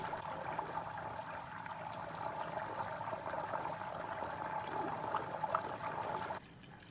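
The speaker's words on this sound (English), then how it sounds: "Listen to and see the bubbling has its own rhythm" Ghee simmering and bubbling in a pan on the stove, a steady, dense crackle and sizzle of tiny bursting bubbles at close range, continuous with no voices, dropping away abruptly near the end.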